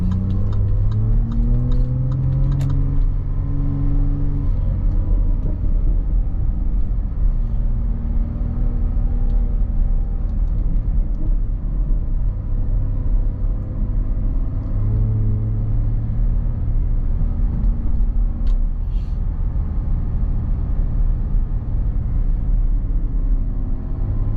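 Deep, steady engine rumble from a Jaguar F-Type sports car, idling and revving lightly with low droning tones, loud and close and continuous throughout with no talking.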